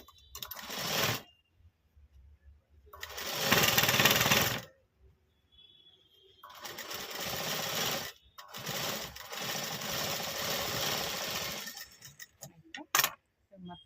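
Sewing machine stitching puff sleeves for a readymade lehenga blouse, running in several bursts of fast whirring and clattering, separated by pauses, close and fairly loud, with talk between runs.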